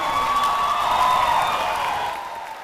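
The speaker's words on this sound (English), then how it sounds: "Let's applaud for all of our teachers of the year." Audience applause at a Canyons School District ceremony honoring the 2025 teachers of the year, a dense, steady wash of many hands clapping with some cheering that fades slightly toward the end.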